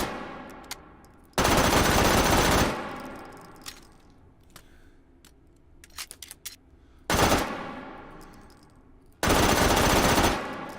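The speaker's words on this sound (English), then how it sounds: "this is a really nice little submachine gun" Submachine gun fired in the VR shooter H3VR, three loud sustained bursts of rapid automatic fire of about one to one and a half seconds each, separated by quieter mechanical clicks and handling clatter.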